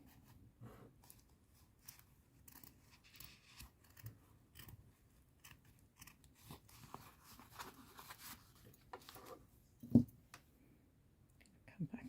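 Small sharp scissors snip around a stitched fabric circle in a series of quiet, uneven clicks and cuts, with one louder snap near the end.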